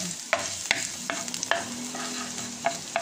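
Garlic in hot oil sizzles in a pan, stirred with sharp utensil clacks against the pan every half second or so over a steady close crackle.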